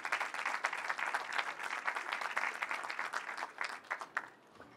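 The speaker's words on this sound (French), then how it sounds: "On l'applaudit." Audience applause at a staged mock-trial debate event, many hands clapping in a lively, fluttering patter that holds steady for several seconds and then thins out with a few last claps.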